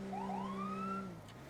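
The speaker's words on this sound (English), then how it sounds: "that's our siren we got" A police car siren in the GTA 5 roleplay game wails upward in a rising sweep, then cuts off and drops away, fairly quiet and alone.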